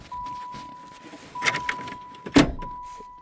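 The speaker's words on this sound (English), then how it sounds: "the parking brake was engaged because it moved when I did that" Inside a wrecked 1989 Dodge Caravan SE, the parking brake releases with two sharp mechanical clunks and rattles over a steady warning chime tone, close and fairly quiet.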